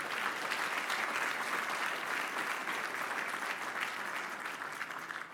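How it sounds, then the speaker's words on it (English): Sustained crowd applause for New York City firefighters at an awards event, a broad, even roar of clapping hands heard from a distance, quiet in level and gently easing off near the close. "Let's give them a round of applause."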